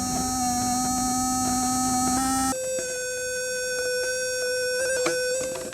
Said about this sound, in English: This is the singing capacitor phenomenon.